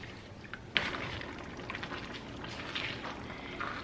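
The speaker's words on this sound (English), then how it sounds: "we're gonna go ahead and add our milk. And we're just gonna let this simmer until our noodles are cooked through." A pot of milk and noodles simmers in a soft, continuous bubbling hiss with faint pops. It sounds quiet and close, with a small clink near the start.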